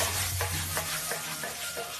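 Luffa and egg being stir-fried in a wok, with a steady sizzle under repeated scraping strokes of a spatula every half second or so, close and continuous.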